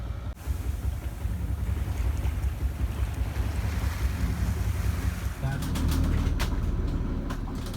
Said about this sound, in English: Slowly it was getting dark and wind disappeared, so we had to start the engine.